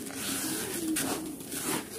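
Rice-fed pigeons cooing close by at feeding time, a continuous low rolling coo with a few more distinct calls over faint background noise.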